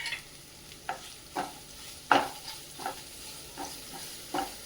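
Finely sliced onion sautéing in a pan, soft sizzle punctuated by about eight separate scraping stirs of a spoon at a slow, uneven rhythm, fairly quiet and close.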